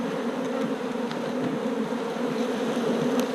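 Honey bees buzz at a beekeeper's hive in a steady, dense droning hum, close and continuous, with a few faint clicks and no talk.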